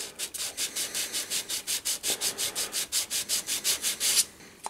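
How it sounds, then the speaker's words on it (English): Rhythmic back-and-forth scrubbing of a small metal maker's plate on 400 grit abrasive to remove burrs, about twenty even, loud close strokes in a steady rhythm with no talking. "I might give it a rub on the 400 just to take the burrs and things off it"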